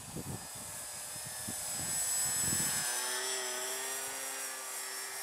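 Small foam board RC model airplane flying slowly at an outdoor flying field, its electric motor giving a steady thin high whine with a faint tonal drone, softer thumps early on.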